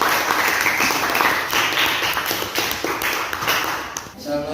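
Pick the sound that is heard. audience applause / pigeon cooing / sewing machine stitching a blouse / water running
audience applause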